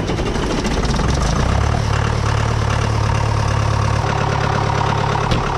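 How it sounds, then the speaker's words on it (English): A tractor engine idles in cold weather, a steady low rumble with a mechanical knock, close and constant throughout without change in pace. "This tractor is a little bit more cold-blooded."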